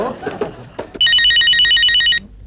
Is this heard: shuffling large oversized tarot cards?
no